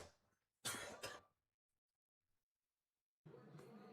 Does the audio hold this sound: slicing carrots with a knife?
no